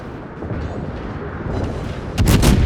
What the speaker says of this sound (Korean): 자 쏘기 시작하죠 포격 시작됐어요